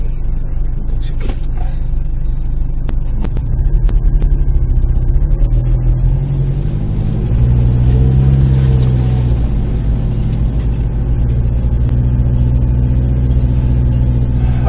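A 4x4 engine revs hard while straining to pull a trailer stuck in thick sand at a coastal campsite, a loud low rumble rising in two long surges with no talking.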